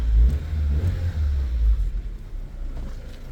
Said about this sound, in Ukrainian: Давайте послухаємо роботу двигуна. 16 клапанів у нас тут.